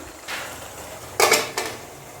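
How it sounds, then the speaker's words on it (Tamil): A metal lid clanks down onto a pot of simmering kaara chutney with a short rattle, followed by a second lighter clink, close by in a quiet kitchen. "மூடி போட்டுடலாம்."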